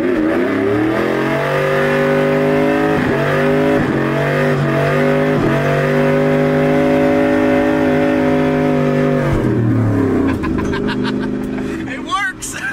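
Truck accelerating hard in second gear, a loud rising engine roar climbing in pitch for about nine seconds before easing off, heard from inside the cab.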